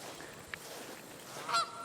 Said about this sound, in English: the Canadian geese are right across the road